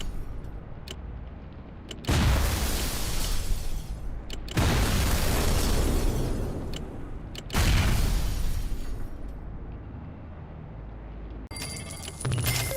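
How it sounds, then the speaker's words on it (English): Rooms are blown up one after another in the game Fallout Shelter, a series of long, loud booming blasts with rumbling decays and short quieter gaps between them, alone with no talk. "these explosions are gonna keep on going for a while, so yeah, you might want to lower the volume, because they get loud and annoying pretty quickly"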